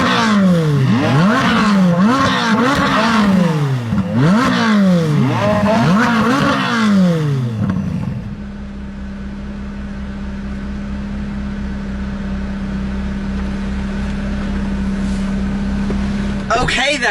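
Two drag-race cars' engines run together, a loud rising and falling rev pattern repeating several times before settling into a steady, close idle drone, with talk over the top.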